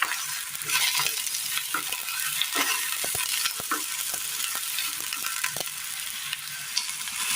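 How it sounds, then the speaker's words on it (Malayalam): Brinjal sautés in hot oil in a pan, with a steady sizzle broken by frequent close scraping stirs of a utensil, no voices present. "വഴുതനങ്ങ ഇട്ട് കൊടുക്കാം. ഒന്ന് വാട്ടിയെടുക്കണം."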